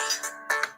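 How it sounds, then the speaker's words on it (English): A phone rings for an incoming call with a short, bright electronic ringtone of a few quick rising notes, loud and close, with no talk over it. "There's a phone call."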